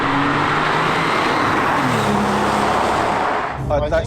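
A Porsche 993 C4S pulls hard under acceleration on a road, its loud engine tone climbing steadily in pitch and filling the cabin, with a short burst of a voice right at the end.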